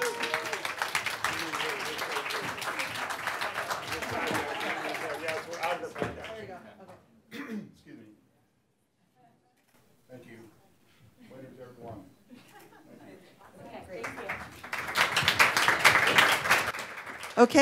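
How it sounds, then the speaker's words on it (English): Audience applause for contest winners at a talks event, a burst of clapping that fades into a quiet stretch of scattered sounds and murmur, then swells again near the end, with voices mixed in. "A round of applause for all the winners."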